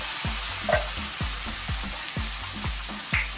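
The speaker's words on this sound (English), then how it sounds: "Simply now I'm going to add a regular can of tomatoes." Chopped canned tomatoes hit a hot frying pan for a Jamaican spicy tomato gravy, with a soft steady sizzle and repeated rhythmic stirring scrapes close by, no voices.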